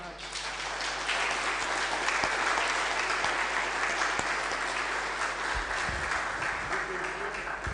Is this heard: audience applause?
yes